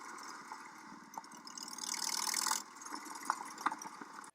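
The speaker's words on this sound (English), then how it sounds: "where did you get that motorbike?" A motorbike engine approaches faintly, its rumble swelling into a louder rushing roar that peaks and then cuts back to a lower idling putter with a few sharp blips. No one speaks.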